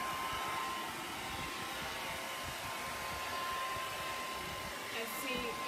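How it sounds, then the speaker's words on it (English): A blow dryer runs continuously on wet paint on wood being aged, a steady airy whoosh with a thin whine, close and unbroken throughout. "So I'm just hitting the blow dryer like we all do"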